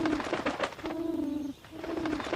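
A pigeon coos in an animated children's story scene, two or three soft throaty calls over a busy background of music and ambient noise, with no one speaking.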